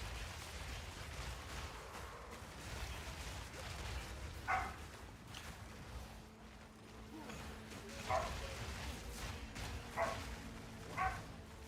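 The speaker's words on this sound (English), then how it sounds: "Sorry for the dog, guys." A dog barks in a room, giving several sharp, separate barks spaced a few seconds apart over quiet, muffled game background noise. The dog sounds somewhat distant and moderately faint.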